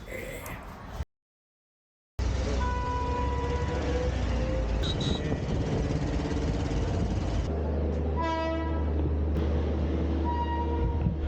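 A passenger train bound for Jaipur, India rumbles along with steady mechanical rolling noise and a prominent horn-like tonal call near the end, after a brief silent gap at the start; people talk faintly over it.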